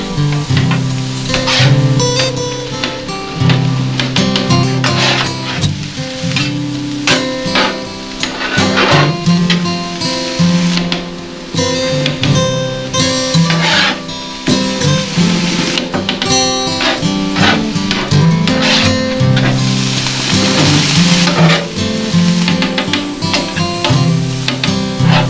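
Ground hamburger meat browns in a pan outdoors on the Beaufort, South Carolina waterfront, a loud, steady sizzle that runs continuously without pause, with scraping and stirring clatter from the utensil layered over the frying.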